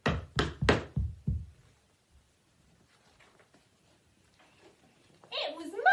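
A series of five loud knocks at a door sounds in quick succession, followed by a quiet pause and then a voice beginning to speak.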